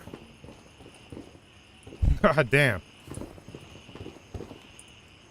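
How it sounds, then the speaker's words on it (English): Footsteps in the military shooter game Gray Zone Warfare, a short burst of quick steps heard close by, surrounded by quiet ambience and a man's brief muttered curse. "I knew I heard footsteps."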